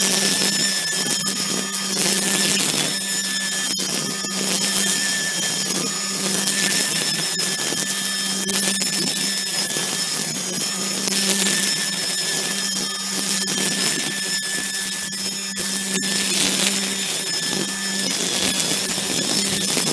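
DeWalt 60V electric string trimmer cutting grass under a pin oak, a loud, steady high whine with a constant motor hum that runs throughout without pause, close by and with no talk.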